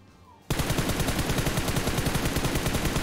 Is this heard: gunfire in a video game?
yes